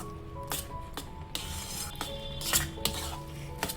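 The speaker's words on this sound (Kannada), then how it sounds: "ಕೈ ಬಿಡದೆ ಇದನ್ನು ತಿರುಗಿಸ್ಕೋಬೇಕು" A spoon scrapes and clinks against a pan while ragi flour upma is stirred, sharp metallic taps landing irregularly over a low sizzling background, close and moderately loud.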